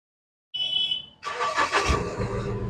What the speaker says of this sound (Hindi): तो गाड़ी को स्टार्ट करते हैं।